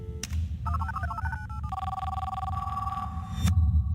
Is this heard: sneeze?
no